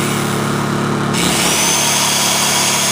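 A Honda generator starts and settles into running, a close, steady buzzing engine hum that rises sharply as it fires up and then holds even, with no voices.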